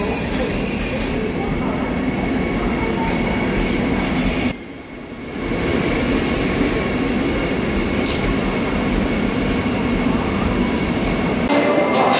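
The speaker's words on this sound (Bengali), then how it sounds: "বন্দে ভারত এক্সপ্রেস যা খড়গপুরে ঢুকছে" A Vande Bharat Express rolls into Kharagpur station with a loud, steady rumble and screeching wheel squeal, nearby, dipping briefly midway before resuming strongly.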